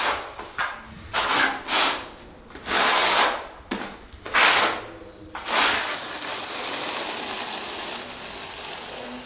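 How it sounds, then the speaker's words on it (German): A notched trowel with 15 mm teeth scrapes tile adhesive across a bathroom surface in several rhythmic, close strokes, then a steadier rasping drag. "Ein weiterer Trick, damit es wirklich hält, ist der Spachtel mit seiner speziellen Zahnung"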